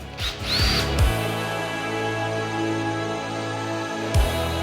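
A power drill whirs steadily at close range, with short bursts of revving at the start and a brief spin-down and restart near the end.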